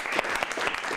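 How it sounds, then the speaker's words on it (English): Children in a classroom clap in a short, even burst of applause, fairly close and steady for about a second, with no voices over it. "Round of applause."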